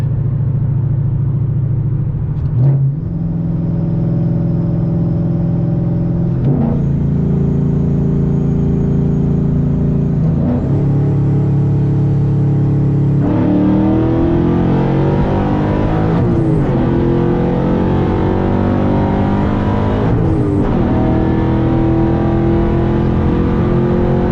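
A Paxton-supercharged Ford Mustang GT pulls hard at full throttle, its engine note climbing through several rising gear pulls with brief dips at each shift, loud and close throughout with no talking.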